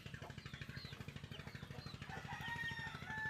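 Native chickens cluck and chatter softly at close range, with some higher calls, over a fast, steady mechanical pulsing in the background.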